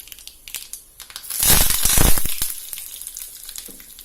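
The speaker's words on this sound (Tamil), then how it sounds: "ஆயில் ஹீட் ஆனதும் கொஞ்சம் கடுகு, கொஞ்சம் உளுத்தம்பருப்பு," Mustard seeds, urad dal and curry leaves sizzle in hot oil while tempering for drumstick leaf chutney: a loud burst of crackling and spitting that swells for about a second, then settles into softer popping.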